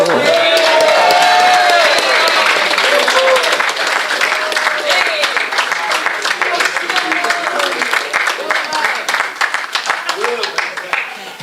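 A board meeting audience gives a big round of applause, dense clapping that starts loud and slowly tapers off, with a voice speaking over it at the start.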